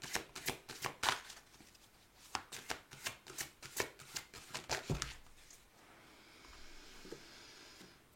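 Tarot cards being shuffled and drawn, a rapid run of crisp riffling slaps close up for about five seconds, then a softer papery slide and a single card placed down, with no voices.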